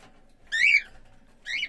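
A female lutino cockatiel gives two shrill, whistled calls, the first longer and the second shorter, close by in a quiet room.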